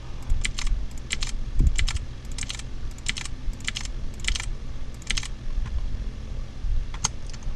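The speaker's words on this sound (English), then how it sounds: "Click the search bar, press Ctrl C and then Ctrl W." Computer keyboard shortcut keys pressed in quick bursts of sharp, close clicks with short pauses between groups, over a low steady background hum; no one speaks.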